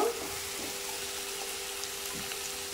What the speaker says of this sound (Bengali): আদা রসুন বাটা দিয়ে দিলাম, দিয়ে আরও কিছুক্ষণ নাড়াচাড়া করে নেব